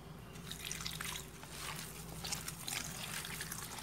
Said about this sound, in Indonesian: Dan airnya kita masukkan perlahan.